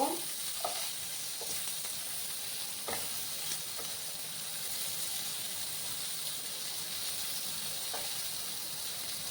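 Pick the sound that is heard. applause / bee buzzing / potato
potato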